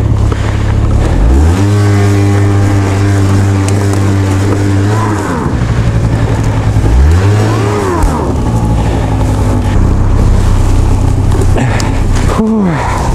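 A Honda Giorno scooter engine strains under load, rising and falling in loud, close revving bursts as the heavy scooter labours along.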